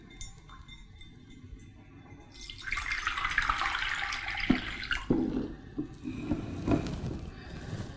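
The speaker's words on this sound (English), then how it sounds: "take a ceramic pot or even a stainless steel pot and fill it up with boiling hot water" Boiling hot water is poured into a ceramic or stainless steel pot, a steady splashing rush with a few clinks of the pot, building and holding for several seconds, and no one speaking.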